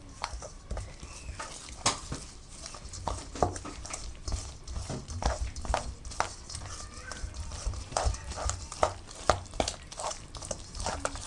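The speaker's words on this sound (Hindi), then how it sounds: "अब आप इसको अच्छी तरह से मिक्स कर लें।" Chicken marinade tinted with food colour is stirred in a bowl, producing steady irregular scraping and soft clacking of a utensil against the dish, close and fairly quiet, with no talking.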